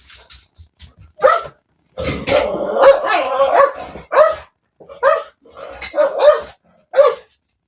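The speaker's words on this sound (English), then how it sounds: "Dog's having a conniption." A dog barks and growls in repeated loud bursts, close by, with short pauses between the outbursts.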